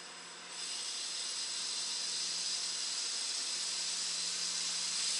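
Compressed air hisses into a DD15 diesel fuel system through a pipe, starting abruptly after a moment and holding a loud, steady, broadband hiss to the end.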